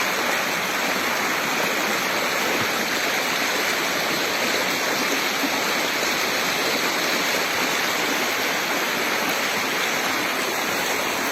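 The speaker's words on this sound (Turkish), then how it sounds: "Su sesi, doğa sesinin huzur verdiği bir yer." A stream flows steadily beside Gem bridge in the countryside of Erkenek, Malatya, its loud, continuous rushing and splashing water filling the whole stretch close to the microphone without any voices.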